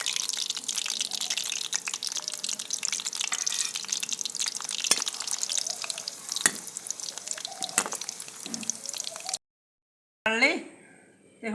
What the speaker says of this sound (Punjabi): ਆਪਾਂ ਮਸਾਲਾ ਭੁੰਨਾਂਗੇ